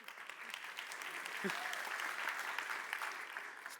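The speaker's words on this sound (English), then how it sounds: "2 rounds of applause" Conference audience applauding in a hall, a steady wash of many hands clapping at moderate level throughout, with a brief voice or murmur near the middle.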